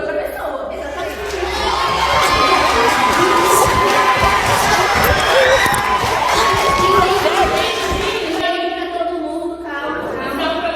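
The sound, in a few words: TV studio audience shouting and arguing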